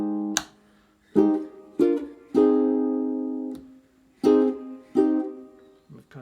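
Ukulele strumming the chord progression of a song, with six separate strums or short chord hits ringing out and decaying between them, played solo and close with no voices.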